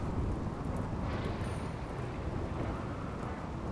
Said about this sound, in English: As another thunderstorm.